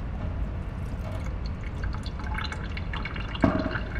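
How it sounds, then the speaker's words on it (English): Water dripping and trickling while paint is mixed, quiet irregular drips over a low background rumble, with one sharper splash near the end. "And mix out a little water."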